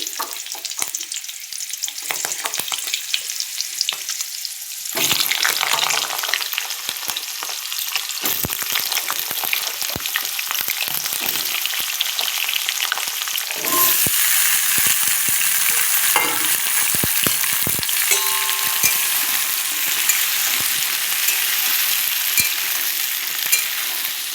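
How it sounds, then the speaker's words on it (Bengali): Cumin seeds and dried chillies sizzle in hot oil for tempering a cauliflower and potato curry. The frying sounds steady and hissing, grows louder after a few seconds, and is broken by occasional stirring clatter. "এই যে জিরে শুকনো লঙ্কা ফোড়নে দিয়ে দিলাম এবার বসাবো তোমার ফুলকপি আলুর তরকারি"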